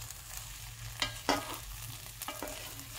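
Cooked mushroom pulao stirred in a pot, a quiet bed of faint sizzling punctuated by several distinct scraping and clinking strokes of a ladle, no speech.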